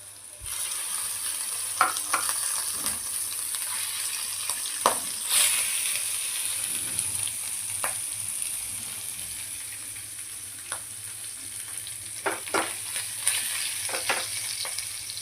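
Fish eggs frying directly in a hot pan, a constant bright sizzle with scattered spoon taps and scrapes as they are turned, close and moderately loud.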